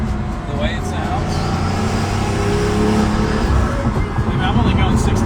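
Pagani Huayra La Monza Lisa engine droning steadily while cruising at moderate speed, a continuous close hum with a faint higher whine, with someone talking over it throughout.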